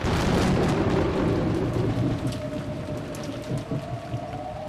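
Steady heavy rain, a sound effect from the Umineko visual novel, hissing loudly with a deep thunder rumble at the start, then settling into a continuous downpour with scattered drops.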